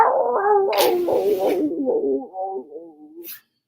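A dog howls in drawn-out, wavering cries that fall in pitch, with a sharp burst of noise partway through and a brief clatter near the end.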